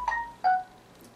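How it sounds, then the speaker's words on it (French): A mobile phone gives two short, clear electronic notification tones, close by, followed by near silence. "Désolée pour le téléphone."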